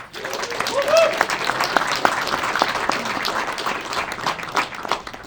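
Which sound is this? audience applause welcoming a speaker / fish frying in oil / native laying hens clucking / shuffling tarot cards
audience applause welcoming a speaker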